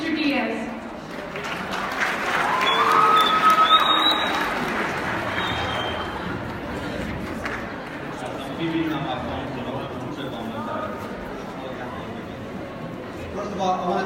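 An audience at a school assembly celebrating Cesar Chavez applauds to welcome a speaker: a steady, dense wash of clapping and crowd noise that holds for the full stretch, with voices mixed in.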